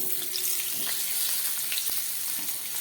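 Chopped vegetables added to cumin seeds and two slit green chillies tempering in hot oil, a dense bright sizzle and crackle that runs steadily throughout, close and fairly loud.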